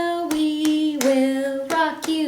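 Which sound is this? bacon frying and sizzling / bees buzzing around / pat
pat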